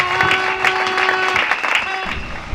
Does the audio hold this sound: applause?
yes